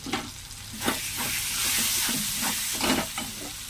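Water splashed into a pan of frying spice paste made with chilli powder and turmeric for a fish curry, setting off a loud, sustained sizzle and hiss broken by stirring scrapes, with no talking.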